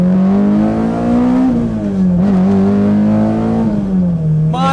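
A naturally aspirated Honda K24 engine in a Honda S2000 revs loudly up close, holding a high steady drone that dips and climbs again through several throttle changes.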